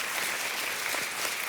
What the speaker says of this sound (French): Je crois que Jésus mérite des applaudissements.